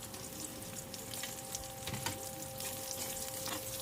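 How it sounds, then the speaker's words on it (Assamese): Eggplant pieces fry in oil left over from frying fish and potatoes, a steady close crackling sizzle with brief stirring scrapes, no voices. "এতিয়া মই বেঙেনাকেইডোখৰ ফ্ৰাই কৰি ল'ম অকণমান।"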